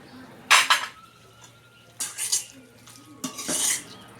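Metal utensil scraping and clinking against a pan while a quick snack is mixed and roasted, in three short bursts of stirring separated by near silence, close and moderately loud.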